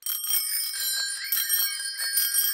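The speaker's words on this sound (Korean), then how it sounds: "누구의 자전거 벨소리가 제일 커?" A bicycle bell rings in quick repeated bright trills, loud and close, tinkling several times in a row with no talking over it.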